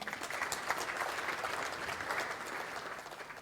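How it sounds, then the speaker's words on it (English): An audience at a Sunday love feast devotional gathering gives a sustained round of applause, with steady, moderately loud clapping that swells slightly and continues throughout. "Can you give him a better round of applause"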